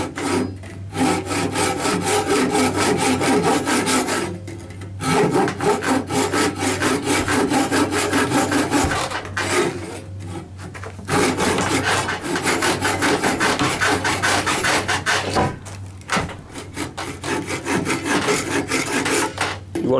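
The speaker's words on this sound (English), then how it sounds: "What you want to do first is you want to make some cuts with a handsaw." A handsaw cuts into a wooden bow stave, a loud close rhythmic rasping of rapid back-and-forth strokes, broken by a few brief pauses between runs of sawing.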